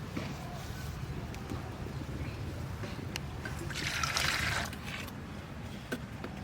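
Hot water is poured into a cooking pot in a village kitchen where country chicken is being cooked. A brief splashing pour rises near the middle over a steady low background.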